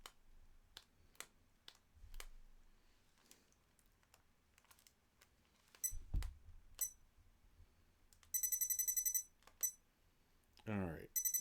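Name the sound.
repeated electronic beeping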